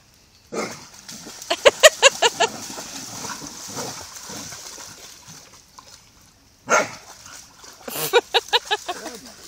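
A dog in the water playing tug of war gives quick bursts of barks and growly yaps in short rapid runs, with splashing and excited voices talking around it.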